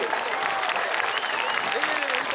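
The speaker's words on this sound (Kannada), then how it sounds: "ತಾಳಿ ಜೋರಾಗಿ ಚಪ್ಪಾಳೆ ತಟ್ರಿ" A crowd at a Lingayat rally in Hubballi claps loudly and steadily throughout, a dense wall of applause with voices audible beneath it.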